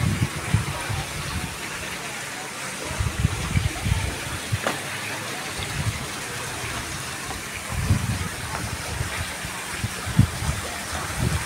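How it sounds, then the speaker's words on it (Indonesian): Water pours down an artificial mini waterfall in a mosque garden, a continuous splashing rush with uneven low surges, fairly close and steady throughout. "Dan beberapa sisi dibuat air terjun mini"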